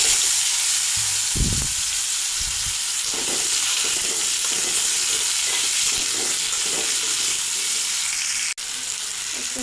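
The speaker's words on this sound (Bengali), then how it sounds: "এবার আলুগুলো ভেজে নেব।" Potatoes frying in a pan give a loud, steady sizzle that runs unbroken throughout, with occasional stirring knocks and scrapes close by and a brief sharp click near the end.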